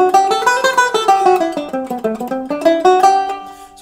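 Solo guitar runs through a full scale position near the D shape, with a steady stream of clear plucked single notes climbing and descending for about four seconds, close-miked and with no voices.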